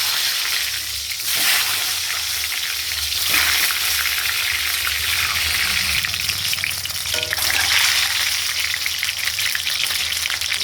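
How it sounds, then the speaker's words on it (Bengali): Eggs frying in oil in a pan, a loud, continuous close sizzle with small crackles and a few soft stirring knocks. "ডিমগুলো ভাজা বসে, ডিমগুলো একটু ভেজে নেবো"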